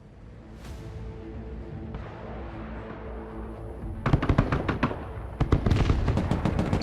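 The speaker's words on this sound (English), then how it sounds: "Grenade launcher absolutely rinsing them" Grenade launcher fire in the military strategy game Broken Arrow, heard as a rapid burst of sharp, punchy detonations toward the end, with a steady rumbling battle bed beforehand.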